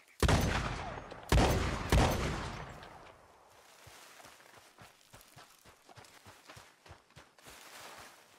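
Loud rifle shots in Red Dead Redemption 2 bring down a legendary pronghorn, with three booming reports and echoing tails, then a run of soft rhythmic hoof or footstep thuds.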